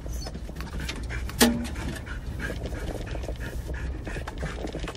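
An excited dog pants steadily and quickly at close range, with one brief sharper cry partway through, over a constant background rumble, on the way to Bandix Dog Park in Kitsap County.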